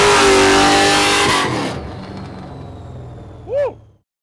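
A Formula Drift Nissan 350Z with an LS3 engine and about 800 hp revs hard and loud at close range, then the roar drops away into a fading tail, with a brief whooping cry near the end.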